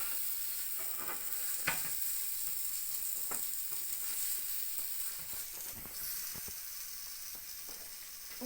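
Baby bok choy sizzles in a hot frying pan, giving a steady bright hiss of frying with occasional clicks and scrapes of stirring, close and moderately quiet, with no voices.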